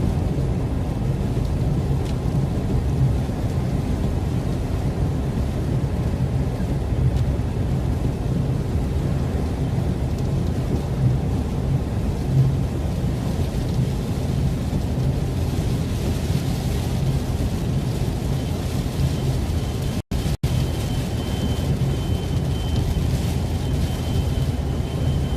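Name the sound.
heavy rain and thunder during storm chase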